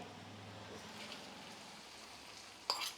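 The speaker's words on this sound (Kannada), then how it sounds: "ಕರ್ಬೇವಿನ ಸೊಪ್ಪು ಚಟಪಟ ಚಟಪಟ ಚಟಪಟ ಅಂತ ಇದೆ ನೋಡಿ" Curry leaves and garlic crackle and sizzle faintly in hot oil for a vegetable bassaru, a soft continuous fizz with a brief louder spatter near the end.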